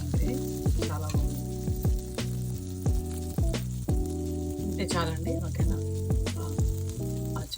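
Pepper and cumin tempering in hot oil for a gram split and peanut chutney, crackling and spluttering loudly and steadily throughout while a voice speaks briefly over the sizzle.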